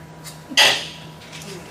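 A single short sneeze bursts out in a county council budget hearing room, one sharp broadband burst over quiet room tone, fairly close and loud.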